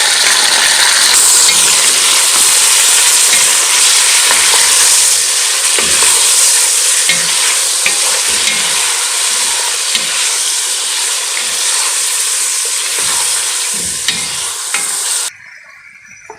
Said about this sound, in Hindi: यहाँ पे मैंने 1 किलो चिकन लिया और इसे हम हिला लेंगे।